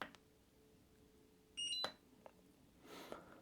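A Potensic Atom 2 drone controller switching on gives a short, clear electronic beep, with a few faint clicks and handling rustles nearby in a quiet room.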